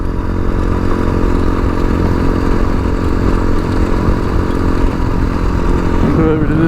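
A tuned TBR7 Chinese dual-sport motorcycle drones steadily while being ridden, its engine loud and close with a dense, unbroken rumble and faint rattling throughout.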